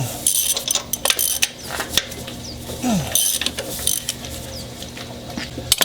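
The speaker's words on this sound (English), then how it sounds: "Now this gives us another opportunity to try out the Nico ratchet." A Nico ratchet works loose the upper engine mount bolts on a 2012 Honda Civic 1.8 liter, giving rapid metallic clicking and clattering up close, with scattered knocks throughout.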